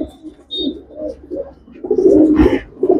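A red Khaira Punjabi pet pigeon coos nearby, a few soft rolling throaty calls in quick succession, the last one louder and fuller.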